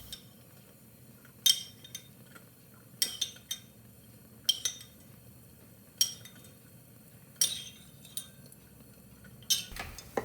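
A slotted spoon scoops cooked cauliflower into a blender in a kitchen, metal clinking against the container in a steady series of sharp knocks about every second and a half over a quiet background.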